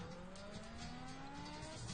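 Racing cars in the Amiga Racer video game drone steadily with a faint engine whine rising slowly in pitch, low in level and continuous, no voices.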